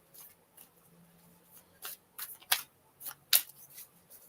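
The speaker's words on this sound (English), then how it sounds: "let's give the cards a good shake" Tarot cards shaken in the hands, a series of short dry rustling bursts that grow louder and more clustered toward the end, close up with no voices.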